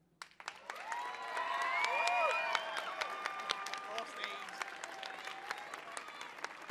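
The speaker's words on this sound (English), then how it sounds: "everybody show a warm round of applause and love for Mozzie" Applause from a live audience at an evening stage performance, a crowd clapping loudly and steadily for a chess instructor, swelling then holding with scattered cheers mixed in.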